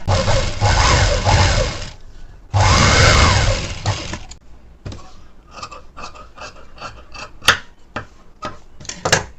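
Sewing machine top-stitching a plain paa neck blouse: two long, loud whirring runs of stitching, followed by scattered clicks and fabric handling.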